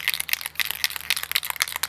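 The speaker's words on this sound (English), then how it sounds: "I'm going to give the can a good shake" Rapid irregular rattling and clattering bursts from a PlastiKote spray paint can shaken hard continue steadily for about two seconds with no talking.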